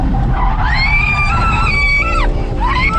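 A woman screams loudly and continuously in a speeding car, her high, wavering voice rising and falling over a steady engine and road roar for about three seconds.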